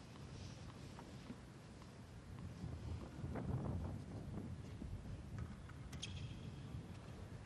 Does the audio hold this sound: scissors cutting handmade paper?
no